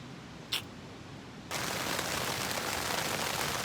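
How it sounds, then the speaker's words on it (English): Rain starts abruptly after a short quiet stretch in the Sierra Nevada, then falls as a steady, dense hiss close by. "It's raining."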